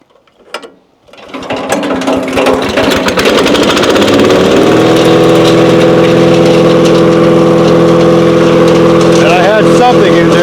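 A GARDENBEAUT 7HP gas mulcher chipper shredder engine sputters briefly, then catches and roars up to a loud, steady run at about half throttle, droning close by for the rest of the stretch.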